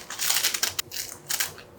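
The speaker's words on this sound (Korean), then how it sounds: "이거를 잘라서 넣어주세요. 이렇게 가위로." Scissors snipping through crisp square sheets of laver seaweed, a rapid crunchy crinkling in several short bursts, close and fairly quiet with no talking.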